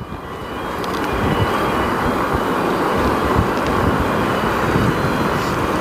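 Veteran Sherman S electric unicycle riding outdoors, a steady loud broadband rumble with wind noise that holds constant throughout, no voices.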